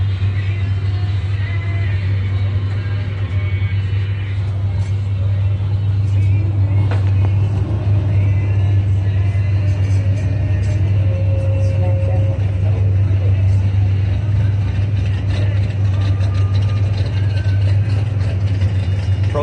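Doorslammer drag cars, including a Mustang, idling in the staging lanes at a drag strip, a loud continuous low engine rumble throughout, with people talking over it.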